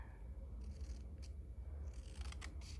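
Scissors trimming a cream or white strip off paper for envelopes and tags, a few soft snipping cuts close by over a low steady hum, no talking.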